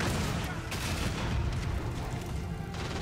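Gunfire in Call of Duty: Modern Warfare (2019), dense rapid shots and booming reports in a loud sustained barrage, with someone talking under it.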